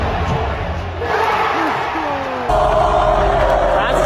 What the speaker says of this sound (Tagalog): Sa clip nito ay ating maririnig kung gaano kalakas ang hiyawan ng mga Warriors fans sa tuwing nakakapasok ng tira ang mga players ng Golden State.